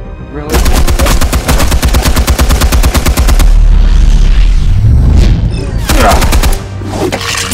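Rapid automatic AK-47 fire bursts loudly in the Batman Telltale video game, sustained rattling volleys with heavy booming impacts between them. A second burst of shots follows near the end.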